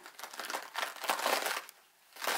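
Napa cabbage leaves are pulled and split apart by hand after a partial cut from the root end, giving crisp crinkling and crunching in quick close bursts that come alone and stay fairly quiet.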